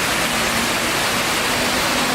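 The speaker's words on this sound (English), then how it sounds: "Pretty cool waterfall out here in the front of the Marriott." Waterfall in front of the Marriott hotel, a loud steady broadband rush of falling water with no breaks, heard close and alone.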